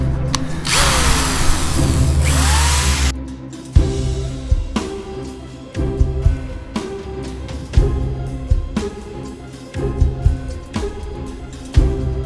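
A wire wheel spun by a power drill strips rusty glue from a convertible top frame, loud whirring bursts with a long steady run first, then repeated short grinding pulses with brief pauses.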